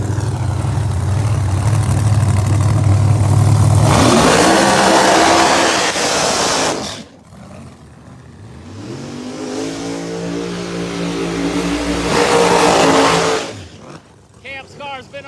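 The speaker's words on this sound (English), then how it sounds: "Doug Winters driving the beautiful Steinhardt machine. Johnny Camp, far lane in the Hells Bells" Pro Mod drag race cars launching at Bradenton Motorsports Park, loud roaring engines surging and revving in two long passes under a track announcer's commentary.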